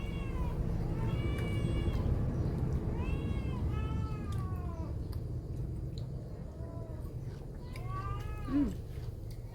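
A cat meows repeatedly, about five drawn-out, wavering cries in succession, clear and close over steady low background noise.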